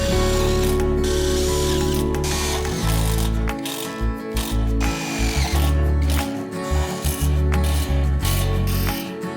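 Power driver fastening screws into a solar panel roof frame, a loud close whirring buzz in repeated bursts with short pauses and ratcheting clatter in between.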